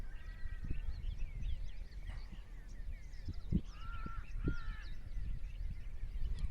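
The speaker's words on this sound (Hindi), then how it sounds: "आशा करता हूँ कि आपने इन आवाज़ों को सुना होगा पक्षियों की" Outdoor morning birdsong in which crows caw repeatedly, with a few other calls scattered over a low rumble of background noise, moderately distant.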